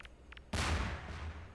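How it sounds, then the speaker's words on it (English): Grenade blast in the Garry's Mod game under a visual effects overhaul: a sudden loud explosive burst after a brief quiet, with a heavy low rumble that decays slowly over the following second. "we're going to shoot this and see what the explosion looks like"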